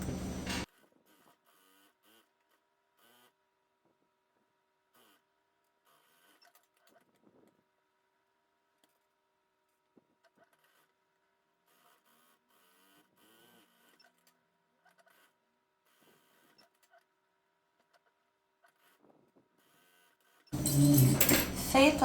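A sewing machine runs straight seams on a fabric eco bag with a milk-carton insert, in loud short bursts at the start and end separated by long near-silent pauses with faint handling noises.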